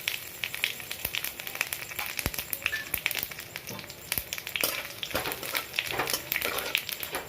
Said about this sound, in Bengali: ফোড়নটাকে আমি একটু ভালো করে ভেজে নেব।